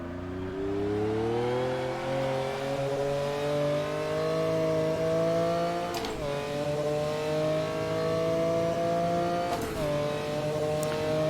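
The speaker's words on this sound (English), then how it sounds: "And I just love the sound of the V12." A V12 race car engine in a racing simulator game holds a loud, smooth, rising tone as it accelerates, with two quick dips and rises where the gears shift, and no talking.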